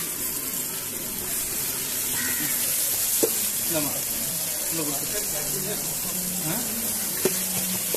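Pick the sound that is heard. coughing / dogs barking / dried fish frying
dried fish frying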